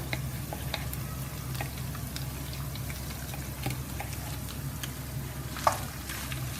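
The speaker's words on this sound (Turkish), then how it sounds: "Tereyağı eridikten sonra 3 adet rondodan çektiğim soğanı ilave ediyorum." Grated onions frying in melted butter, a steady close sizzle and crackle running throughout with scattered small pops and spits, fairly quiet and with no talking over it.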